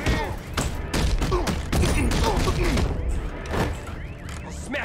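Gunfire and impact thuds from the video game Batman: Arkham Knight, a dense run of sharp shots and heavy hits over a busy, loud game soundtrack with voices mixed in.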